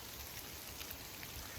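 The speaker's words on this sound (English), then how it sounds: "It's raining pretty good right now." Steady rain falls outdoors beneath an oak tree, a soft, even patter of drops that holds at a constant level throughout without any voices.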